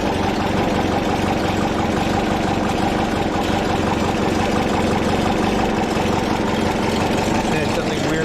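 Tuned-up 1961 VW Beetle motor idling close by, a constant mechanical chug with a steady rhythmic pulse and no break in the sound.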